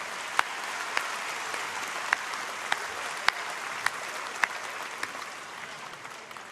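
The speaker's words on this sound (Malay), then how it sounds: "Berikan tepukan gemuruh pada Puteri UMNO." A large hall audience at the UMNO party general assembly gives steady, sustained applause for Puteri UMNO, with sharper single claps and thumps standing out now and then above the even roar.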